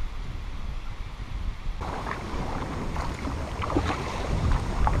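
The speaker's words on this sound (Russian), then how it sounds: "Ветер очень сильный." Strong wind buffets the microphone with a steady low roar, and choppy water splashes against a small boat on a pike-fishing trip among water lilies throughout, growing rougher toward the end.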